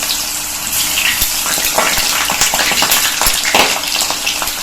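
Ridge gourd pieces dropped into hot oil in a pan, bursting into a loud, dense crackling sizzle that runs throughout with no talking.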